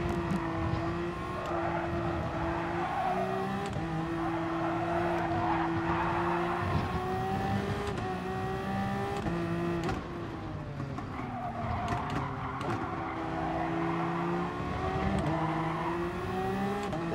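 Gran Turismo Sport race car engine droning steadily at close range with harmonic whine, tyre skidding and scrubbing under heavy early braking, and revs rising and falling through the corner, continuous and loud without talk.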